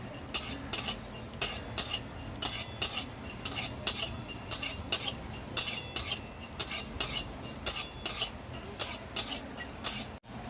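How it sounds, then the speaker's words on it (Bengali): A spoon scrapes and stirs coriander seeds and black pepper as they dry-roast in a pan, giving a steady rhythmic clink and scrape that repeats about every half second. "গোলমরিচ 1 চামচ দিয়ে এই মশলাগুলো আমি লাল করে ভেজে নেব"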